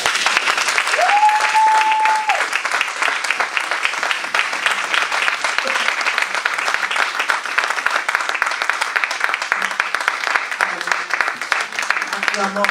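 A church congregation at a French-language sermon bursts into sustained, dense applause that carries on steadily throughout, with a short sung or spoken tone near the start rising briefly above the clapping.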